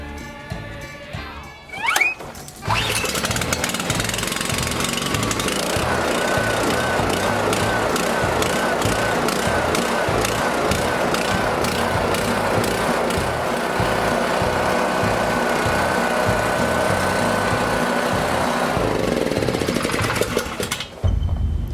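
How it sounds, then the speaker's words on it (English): Ten small engines run together during a fuel additive test, making a dense, loud, buzzing and rattling drone that starts after a brief sputter and holds steady, cutting off near the end. "Well, all 10 engines started, which I knew they would."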